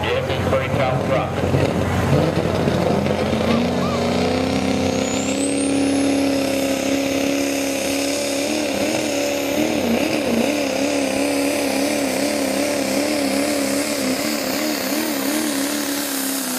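Loud, sustained engine roar from a 2002 Chevy truck at a truck pull in Deerfield, Illinois, revving and rising in pitch early on, then holding a steady heavy drone with wavering tones throughout.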